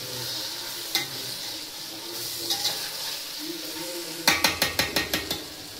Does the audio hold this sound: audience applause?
no